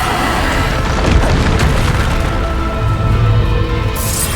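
The Bombarda spell in the video game Hogwarts Legacy detonates in a loud, dense boom with cracking, splintering debris that stays heavy and continuous for a few seconds.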